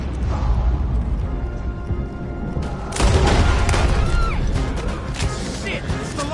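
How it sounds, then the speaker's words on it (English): Gunfire in Red Dead Redemption 2 during a road chase, loud bursts and crashes mixed with a rumbling engine and game voices speaking over the action. "Try to shoot it, Arthur!"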